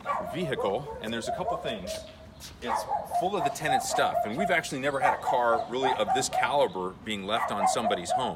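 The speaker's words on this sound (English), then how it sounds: "you hear those dogs barking?" Neighbors' dogs bark repeatedly in the background beneath someone talking steadily up close outside a rental house.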